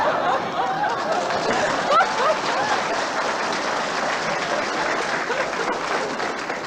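An audience breaks into sustained applause, a dense, steady wash of clapping that carries on throughout with a few scattered chuckles mixed in.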